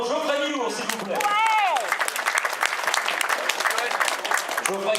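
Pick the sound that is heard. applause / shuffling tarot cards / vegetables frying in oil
applause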